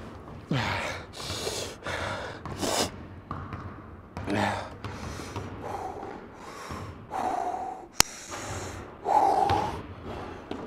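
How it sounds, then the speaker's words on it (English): A player catches their breath during a basketball workout with heavy panting: repeated sharp gasps and snorting exhales come in uneven bursts with short pauses between them, close and fairly loud. "Control your breathing."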